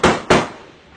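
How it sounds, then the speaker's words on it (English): Two sharp, loud gunshots about a third of a second apart, each cracking out and trailing off in a short echo. "The gunshots rang out."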